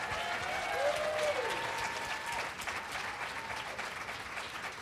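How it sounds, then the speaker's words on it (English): A writers' workshop audience gives a sustained round of applause, steady dense clapping that fills the room for about five seconds, with a few faint voices and a tonal whistle-like sound briefly rising above it. "I would like a gigantic Erma Bombeck round of applause for everybody who"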